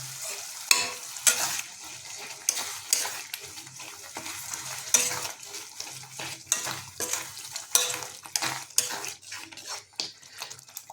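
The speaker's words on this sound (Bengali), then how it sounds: "জল যোগ করার পর আমরা ভালোভাবে নাড়িয়ে নিয়েছি।" Jackfruit and shrimp curry stirred in a wok after a little water is added, with repeated scraping and clinking of a utensil against the pan over a steady sizzle, close and busy throughout.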